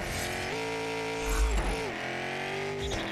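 Car drifting in the Fast & Furious Spy Racers video game, a sustained engine drone with rising and falling revs and a brief low rumble midway, no talk over it.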